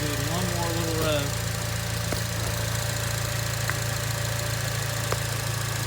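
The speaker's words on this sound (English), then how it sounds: "That's pretty much the intake sound." Acura TSX with a short ram intake idles with a steady low engine hum and a brief light rev near the start, close and continuous, with talking over it.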